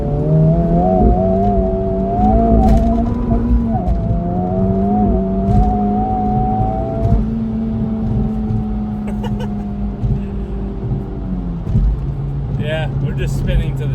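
A Honda Civic Type R FL5 with a Hondata FlashPro and Phearable Stage 2 tune accelerates hard with wheelspin. The loud, close engine drone climbs in pitch, drops at shifts, then climbs again before easing off.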